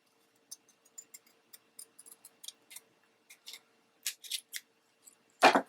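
Scissors cut through a paper tag with a run of small, faint, crisp snips at an uneven pace, ending in a louder clunk as the blades or tag are set down.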